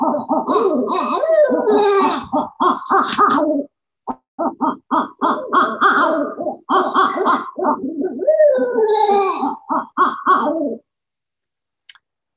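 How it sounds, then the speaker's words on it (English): Northern pygmy owl, a small owl, calling in a long series of close, clear repeated hoots and toots for about ten seconds before falling silent. "Northern pygmy owl."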